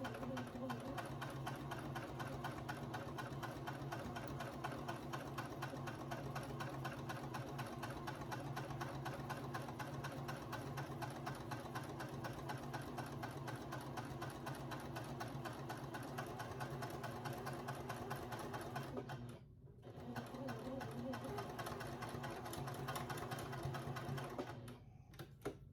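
A sewing machine runs slowly and steadily while stitching a curved seam, a continuous close mechanical whir with a brief stop near the end.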